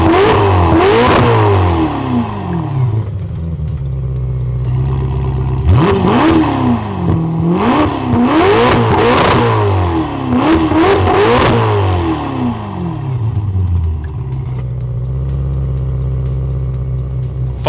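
A Ferrari engine with its exhaust valves held fully open revs repeatedly, loud and close, each blip surging up and dropping back in quick succession before settling to a steady idle.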